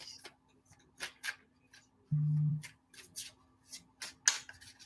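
Tarot cards are shuffled by hand in a series of short, crisp riffles and slides, close and fairly quiet, with a brief low hum in between.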